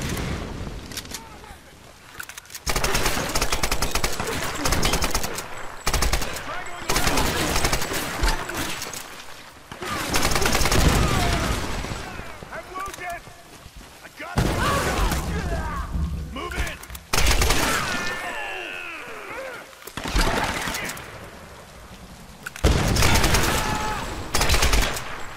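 Rapid gunfire in the Tomb Raider video game: loud, repeated volleys and machine-gun bursts with thuds and breaking sounds, separated by short pauses, running on for about half a minute with no talking.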